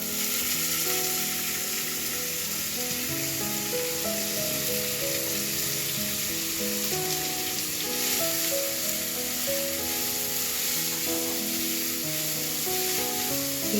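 Grated onion sizzles and crackles steadily in a hot pan, a constant bright frying hiss with faint music underneath.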